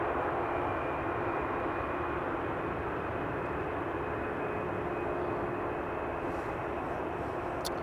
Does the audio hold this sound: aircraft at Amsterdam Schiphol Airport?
yes